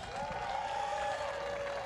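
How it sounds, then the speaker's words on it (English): A crowd at a World's Strongest Man strongman competition applauds and cheers, a faint, steady wash of clapping with a sustained tone running through it. "Crowd, one more time. Give it up for Trey Mitchell."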